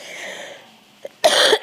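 A man coughs a few times in quick, close bursts after a quiet stretch, in a room during a spoken Sanskrit quiz lesson.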